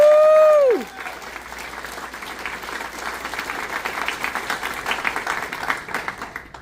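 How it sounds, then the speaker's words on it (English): Audience at a high school volleyball end-of-season banquet applauding the coaches, with sustained, lively clapping from a crowd in a room, following a brief falling tone at the start. "Let's give another round of applause for the coaches."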